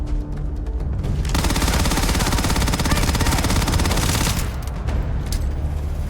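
Sustained rapid automatic gunfire from a weapon in Starfield on Mars, a dense continuous burst lasting several seconds at steady loudness before tapering off, with no talk over it.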